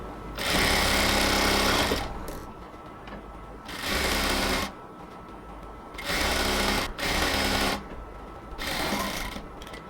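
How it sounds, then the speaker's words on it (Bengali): A sewing machine stitches elastic onto the waistband of a women's pant in loud, steady bursts, running for about two seconds at a time with short pauses between runs. "দুপাশ থেকে ইলাস্টিকটা টেনে ধরে এই সেলাইটা দিতে হবে।"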